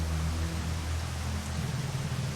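Rain pouring in the Picta Mori video game, a steady even hiss of falling water with a low rumble beneath, continuous and close, with no voices.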